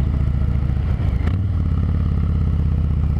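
A motorcycle engine rumbles up close and loud, with a brief dip and rise as it downshifts, then carries on with a steady low throb.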